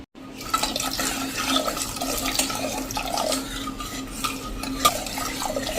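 Water splashes and gurgles into a metal pot of urad dal, a continuous close pour with occasional clinks of the vessel.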